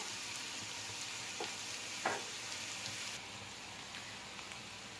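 Onions sauté in a pan for a vegetarian salna, giving a faint, even frying hiss with a couple of brief spoon scrapes, quiet and steady.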